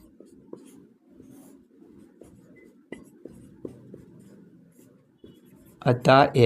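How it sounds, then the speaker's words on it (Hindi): Handwriting of a math solution on paper during a class 10 lesson: steady, close scratching and tapping strokes in an irregular rhythm, followed at the end by a voice speaking. "तो नीचे लिख देंगे"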